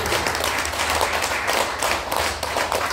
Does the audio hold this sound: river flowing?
no